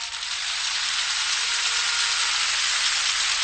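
Loud, dense applause from a large crowd at a political rally in Nonthaburi, Thailand, a steady hissing wash of clapping that stays even throughout with no voices standing out.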